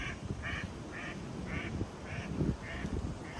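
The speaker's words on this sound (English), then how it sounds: "Scared a couple of ducks out of there. I didn't even see them. Mallards." Mallard ducks quack repeatedly as they are flushed, about seven evenly spaced calls at moderate distance over a rustling, noisy outdoor background.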